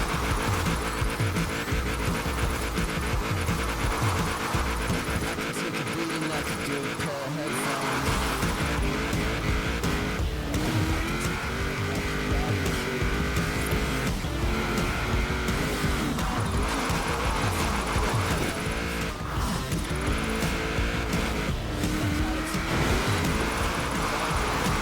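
Car engine driving through country roads in Forza Horizon 4 during a Drift Club event, a steady loud motor roar with shifting revs and occasional tire squeal and skidding, continuous throughout.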